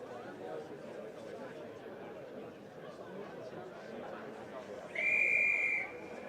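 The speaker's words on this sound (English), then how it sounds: "That chirping sound, not of a bird in the sky, but of the whistle, has gone." A referee's whistle at an athletics championship blows one sustained, shrill blast near the end, rising over a murmuring crowd and background chatter.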